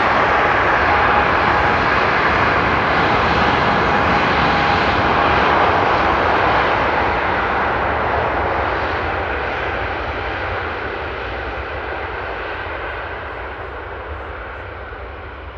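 A four-engine Boeing 747 jet roars steadily at Frankfurt Airport, loud and broadband, slowly fading as it moves away.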